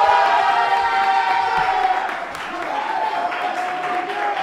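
An audience at a quiz competition applauds contestants, a loud, dense wash of clapping and cheering mixed with voices and a sustained tonal hum throughout.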